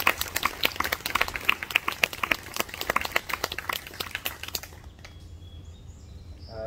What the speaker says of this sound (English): Round of applause for young Lorraine.